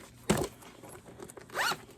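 A zipper on a sewn fabric makeup bag is pulled open in two short, close rasping strokes, with a quiet pause between them.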